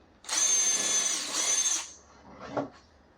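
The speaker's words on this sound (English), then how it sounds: "Drill a pilot hole." A power drill whines at high speed for about a second and a half drilling a pilot hole into wood, then winds down with a short final burst, close by.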